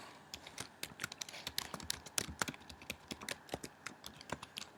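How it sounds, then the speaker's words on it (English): Quick, light keystrokes patter on a computer keyboard in an irregular burst as a password is entered, close and fairly quiet with no talking. "So I'm going to type in my password right now."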